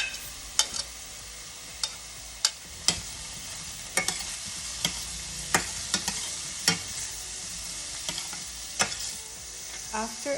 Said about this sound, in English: Then add the minced garlic and continue sauteing.